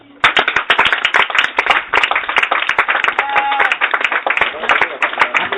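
A church congregation at a gathering in Bonoua, Côte d'Ivoire claps loudly and rapidly in dense overlapping bursts, with voices mixed in beneath the clapping.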